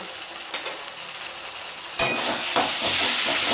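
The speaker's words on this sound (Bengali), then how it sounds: "এটা দিয়ে এবার আবার কষিয়ে নেব" Spices for a Rupchanda (pomfret) fish curry sauté in a frying pan, with a steady close sizzle that swells into a louder hiss partway through. Scraping stir strokes come through the sizzle and no voice is heard.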